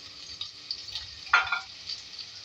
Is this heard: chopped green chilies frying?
yes